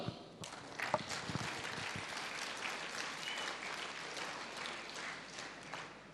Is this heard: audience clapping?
yes